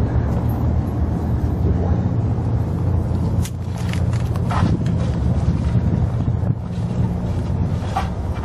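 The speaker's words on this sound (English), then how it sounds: "So I guess we made the ferry." A ferry to Peaks Island pushes along under steady, loud wind buffeting the microphone, its low engine and water rumble continuous throughout, with no voices.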